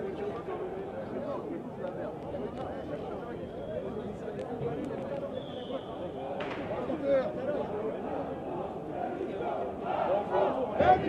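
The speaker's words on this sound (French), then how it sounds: "on entend la foule scander Macron démission, Macron démission" A street crowd in Paris chants "Macron démission" during a protest where a fire has broken out, a dense roar of many voices chanting and shouting that builds toward the end, with speech mixed in.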